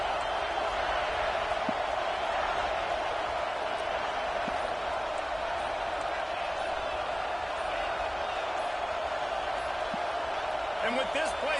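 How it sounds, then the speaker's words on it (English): Steady, loud roar of a packed stadium crowd in a college football video game, holding constant throughout with a voice talking over it. "And with this place rocking, the crowd forces a false start."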